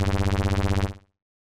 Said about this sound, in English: You could hear the initial oscillator and then also that quick LFO-like effect applied to it.